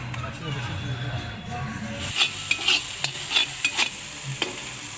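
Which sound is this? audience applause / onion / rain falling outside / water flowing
onion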